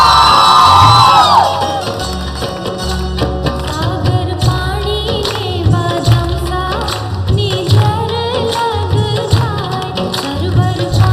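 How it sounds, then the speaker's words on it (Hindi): An audience claps and cheers for a dance performance at a women's polytechnic college's 20th anniversary quiz show event, a loud continuous crowd roar full of whoops and shouts that holds through the whole stretch. "तालियां जोरों से बजाइए आप"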